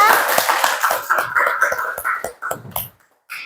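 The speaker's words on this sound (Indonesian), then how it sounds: "Beri tepuk tangan dulu untuk kelompok 2" A classroom of students claps for a group, a brisk patter of hand claps under voices that thins out and stops, followed by a brief pause and a short burst of sound.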